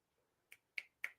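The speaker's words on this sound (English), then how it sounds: "Does that make you want to snap your fingers?" Three crisp finger snaps, evenly spaced about a quarter second apart, close and sharp against a quiet room.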